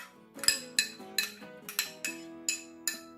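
A spoon mixes peanuts and finely chopped onion in a bowl for a peanut salad, striking the bowl in a steady series of about eight bright, ringing clinks, each fading quickly, with no talk.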